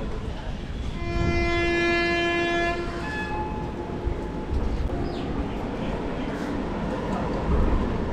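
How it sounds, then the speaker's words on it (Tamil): A train horn blares a long sustained note as an express train rumbles past nearby on the opposite track, the steady roar and rattle of carriages continuing after the horn fades. "ஒரு சூப்பரான ஒரு ஆப்போசிட்ல ஒரு ட்ரெயின் பார்த்துக்கிட்டு இருப்பீங்க"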